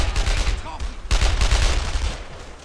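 Dense gunfire from rifles and machine guns crackles through a World War II firefight in Brothers In Arms: Earned In Blood, with a steady loud barrage and a sharp burst midway. Voices shout now and then under the shooting.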